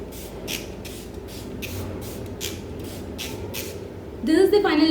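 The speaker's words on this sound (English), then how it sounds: "I just take a setting spray, a nice setting spray that keeps your makeup locked for longer." Makeup setting spray pumped in about nine quick, evenly spaced misting bursts, close and crisp, followed at the end by a voice starting to speak.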